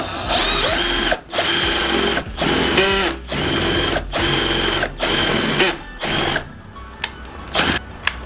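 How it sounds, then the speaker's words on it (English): A power drill fitted with a spade bit bores holes into a wooden piece in about seven loud, grinding runs of roughly a second each, separated by short pauses. "use my drill to then drill holes at the bottom of this wood piece"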